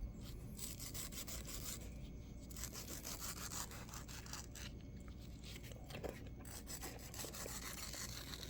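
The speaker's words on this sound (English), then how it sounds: "Just cutting my California Mint" A California mango, a large thin-seeded fruit, being cut with a knife; a steady, close rasping and rubbing of blade through flesh and skin continues throughout, with no talk.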